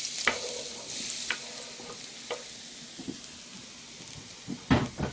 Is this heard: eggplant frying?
yes